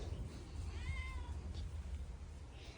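A domestic cat gives a single short meow, fairly close and clear, over a steady low rumble of background noise, with no talking.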